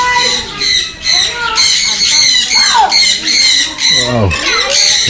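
Many birds squawk at once, loud and near, a dense overlapping chorus of shrill, harsh cries with a few swooping squeals.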